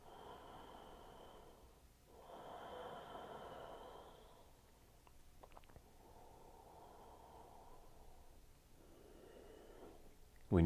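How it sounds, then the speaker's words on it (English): Slow, soft breaths drawn in and let out during a mild yoga back bend, each long airy inhale and exhale close and faint, alone in a quiet room. "Let's take 2 more breaths."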